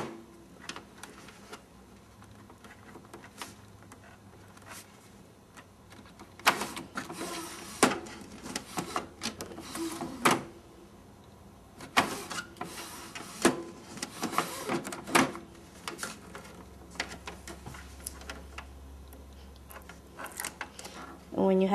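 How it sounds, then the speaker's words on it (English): Epson Stylus Photo C120 inkjet printer with its print head being shuffled back and forth, giving bursts of clicking, ticking mechanical movement at close range, with quiet pauses between runs. "you want to move the printer head back and forth so that you can measure how much tubing you need"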